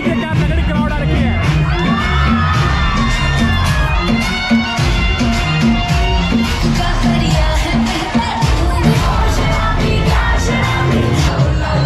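A dense crowd on a DJ floor at Surajgarh Farms resort in Gurgaon whoops and cheers loudly over pounding dance music, with people shouting and talking nearby.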